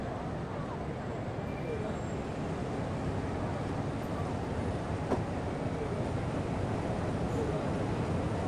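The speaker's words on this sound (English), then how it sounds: "we are being pushed by a diesel, and they're not too fast" Steady diesel locomotive rumble pushing a train in Train Simulator 2017 on the Hamburg–Lübeck line, a continuous broadband drone and rail noise with no breaks, moderately loud throughout.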